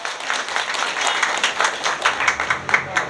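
An audience claps in response to a call for applause, a burst of uneven, scattered clapping of moderate loudness lasting a few seconds.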